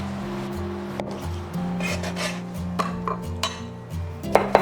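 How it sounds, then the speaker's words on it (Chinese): A kitchen knife slices a block of firm tofu into triangles on a cutting board, giving soft scraping strokes and a few light taps against the board, close and steady over a low hum. "我们从中间对破开，然后再切成三角形"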